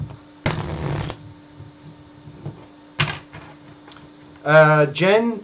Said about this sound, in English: let me shuffle now the cards